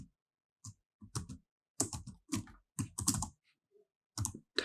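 Someone types on a computer keyboard in short bursts of crisp, close clicks separated by brief pauses.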